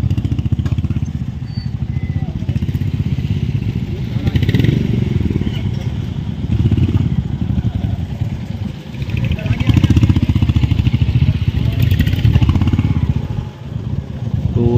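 Royal Enfield motorcycle engines idle and rev nearby on a dusty forest trail with clattering movement as the bikes are lined up, while people talk over the continuous rumble.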